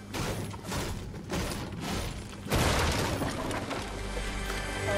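Loud Fortnite shotgun blasts ring out amid busy game music and effects, with sharp booming bursts around the middle followed by a dense, sustained wash of action sound.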